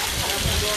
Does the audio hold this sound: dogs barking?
no